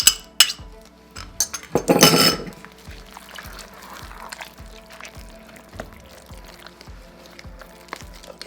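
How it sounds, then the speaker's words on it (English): Hot process soap stirred in a pot: a spoon scrapes and clinks against the pot in a steady, regular rhythm, with a short wet pouring splash near the start. "It's tiring stirring."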